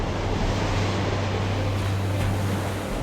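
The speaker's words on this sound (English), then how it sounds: "The huge waves are notorious." Atlantic surf at Porthcawl, South Wales, rumbles as a continuous, dense wash of breaking waves with strong wind buffeting the microphone throughout, no voices present.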